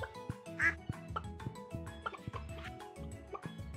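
Cartoonish duck quacks from Stardew Valley farm ducks, a few distinct calls standing out over busy game music and clicking sound effects, with no talking.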